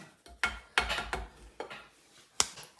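About one and a half cups of maida (all-purpose flour) being sifted for an eggless chocolate cake: a sieve knocks and scrapes against a metal bowl in several uneven, clattering bursts, fairly close, with no talking.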